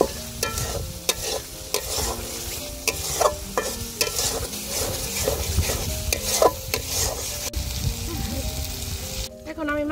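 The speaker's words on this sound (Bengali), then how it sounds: "সব মশলা খুব ভালোভাবে কষিয়ে নিচ্ছি" Ground spice paste stir-fried in oil for a chicken curry, with a spatula repeatedly scraping a pan in steady rhythm over continuous close sizzling, and a few faint background sounds.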